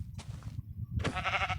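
A sheep in a hardcore survival video game bleats nearby, a short wavering cry near the end after a quieter earlier call, over low background game noise.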